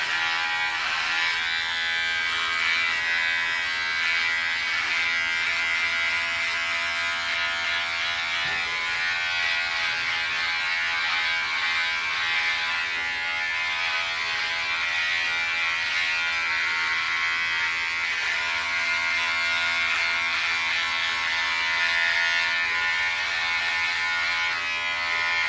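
An electric beard trimmer runs steadily while trimming a beard, giving a continuous close buzzing hum with slight changes as it moves through the hair and no speech.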